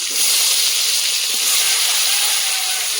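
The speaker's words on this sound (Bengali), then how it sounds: "এই তেলের মধ্যে পেঁয়াজ কোচানো দিয়ে দেবো।" Chopped onion dropped into hot oil on a new stove, a loud, close, continuous bright sizzle that holds steady and unbroken for the whole stretch, with no voices over it.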